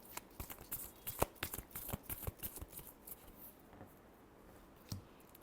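Tarot cards being shuffled by hand in a quiet room, a string of crisp riffling and slapping bursts that thin out and end with a final snap.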